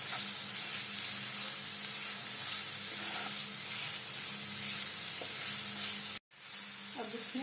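Hing with turmeric, coriander and cumin powders is stirred in a hot pan, a low steady sizzle with soft scraping strokes that cuts out briefly near the end before the frying hiss resumes.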